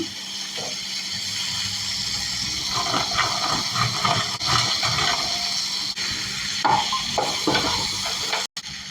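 Chicken pieces frying in a pan with soy sauce, a steady close hiss and sizzle running throughout with occasional stirring scrapes and no talking.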